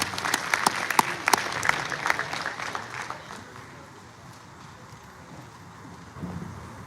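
Scattered applause from attendees at a boxing press conference, a few sharp close claps over a broader wash that thins out after a few seconds into quiet room noise.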